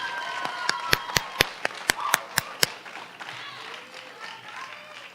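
Audience applause at an eighth-grade award ceremony, a round of scattered sharp hand claps in a hall, uneven and fairly sparse before fading into murmuring room noise.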